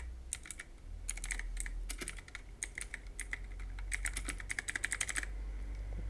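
Typing on a computer keyboard: quick bursts of crisp plastic key clicks, close up, over a steady low hum.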